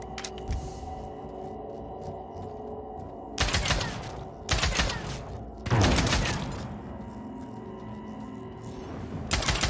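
A gun fires three heavy, booming shots in the video game Realm Royale, spaced about a second apart over a constant low background drone.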